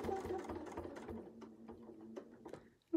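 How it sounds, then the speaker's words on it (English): Sewing machine stitching the arm of a fabric Christmas angel, a steady close rhythmic whir that slows toward the end, with no talk. "come back up the other side, and then you'll just sew the arm on that side"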